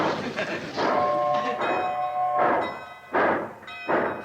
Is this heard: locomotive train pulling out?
yes